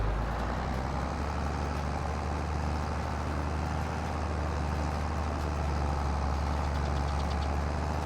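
A tractor engine driving in Farming Simulator 22 runs as a steady, loud, low diesel drone with a constant rumbling throb, unbroken and without speech throughout.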